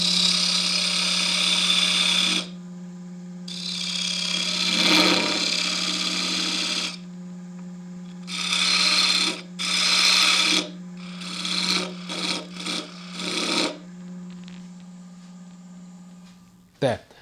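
A skew chisel cuts a tenon on a sapele bowl spinning on a lathe, giving repeated short bursts of dry scraping and hissing over the lathe motor's constant low hum, close and fairly loud.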